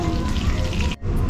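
A small splash of water added to a bowl of okoy batter, a brief close trickle with a short break near the end, heard over steady kitchen noise.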